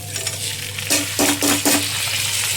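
Rice is tipped into a pan where cashews are lightly frying for basanti pulao, producing a steady sizzle with a few grainy scraping stirs, close and loud with no talk.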